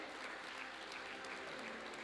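Steady, dense audience applause at the Thabo Mbeki Africa Day Lecture, a continuous even wash of many hands clapping at low volume with no break.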